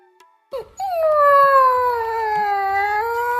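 A dog cries and howls loudly, one long sustained wailing howl rising after a short whimper, close and alone with no talk.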